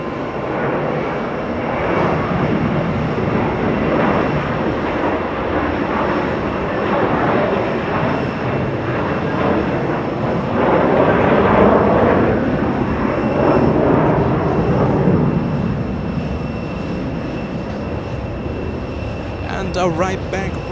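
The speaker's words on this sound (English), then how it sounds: "Jetblue 2223 heading to LAX" JetBlue flight 2223 takes off from JFK bound for LAX, a loud jet engine roar that builds and peaks near the middle before easing off, with people talking over it.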